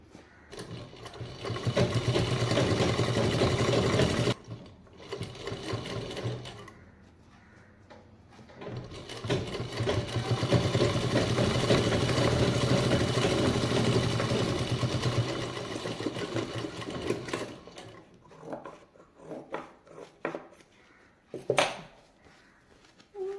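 A sewing machine stitches a double-zip purse in long, steady whirring runs, close and clear, pausing briefly between bursts and ending with a few short stitches and clatters.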